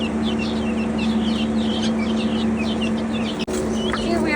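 Young guinea fowl keets chirp in a rapid, continuous chorus of high, thin peeps over a steady low electrical hum, with no talking.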